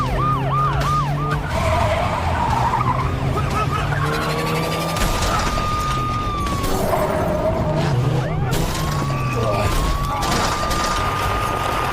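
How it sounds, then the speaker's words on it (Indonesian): A robbers' getaway car skids during a chase with wailing sirens around it, tyres squealing in long screeches against loud engine noise, while a narrator talks over the action. "mobil perampok tersebut pun kehilangan kendali yang membuatnya"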